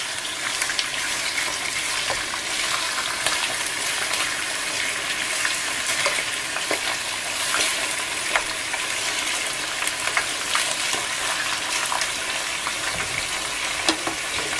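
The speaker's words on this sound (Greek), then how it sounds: "Αφήνουμε να τηγανιστεί καλά ο κόκορας." Rooster meat frying in a pot gives a steady, dense sizzle with crackling pops throughout, close and loud with no talking.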